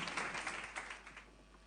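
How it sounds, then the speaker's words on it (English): An audience at a youth resilience speaking event claps steadily. The soft, fairly distant applause fades toward the end. "You can keep clapping until they come,"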